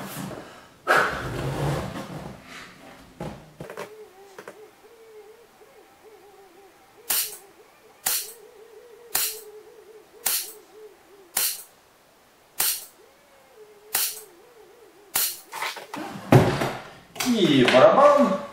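Shotgun loaded with slugs from a drum magazine fired about ten times in a steady, evenly spaced series of loud sharp bangs, with talking before and after the shots.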